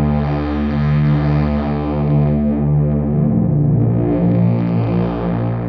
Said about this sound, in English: Let's see if we have some modulation.